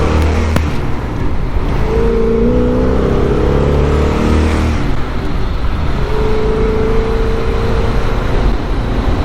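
A 1963 Ford Galaxie with a 427 engine accelerating on the road, loud rumbling exhaust that climbs in pitch through a gear, eases, then pulls again, heard from inside or very near the car.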